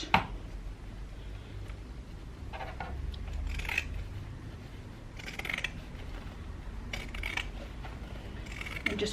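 Fabric scissors trim the seam allowance on a sewn tote bag, with a few short crisp snips clustered at intervals over a low steady room hum.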